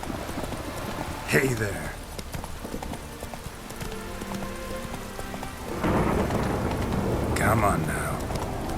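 A horse gallops in The Witcher 3: Hearts of Stone, with fast hoofbeats layered under rain and rumbling thunder as someone speaks briefly to it twice.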